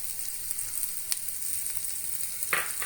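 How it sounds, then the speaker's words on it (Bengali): Washed lentils hit hot oil in a pan, giving a steady, soft frying sizzle with a brief louder hiss burst near the end, no voices. "ধুয়ে রাখা ডালটা এর মধ্যে অ্যাড করে দেবো।"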